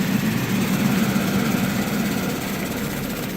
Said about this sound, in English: shut the blower and the shaker off relatively quickly together